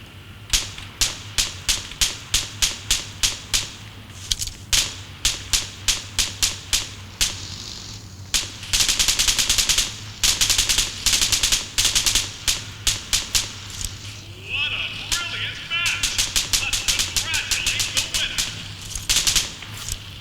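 Rapid bursts of PUBG gunfire, sharp repeated shots in volleys and long automatic strings, over a low steady hum with brief pauses between, heard through Edifier TWS200 Plus earbuds.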